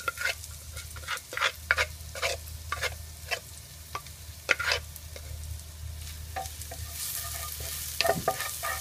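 Crushed Thai garlic fries in homemade pork lard, a gentle sizzle punctuated by repeated sharp clicks and scrapes of a spatula against the pan over a low background hum.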